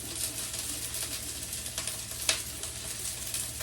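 A large batch of onions fries in a pan for a cluster bean kuzhambu, giving a steady, close, crackling sizzle with light scattered ticks and no talk.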